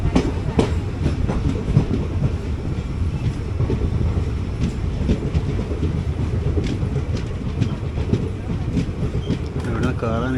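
Passenger train at Kochuveli station platform in Kerala, a steady loud rumble of rolling wagons with faint clickety-clack of wheels over the rails throughout, busy platform ambience and no clear talk.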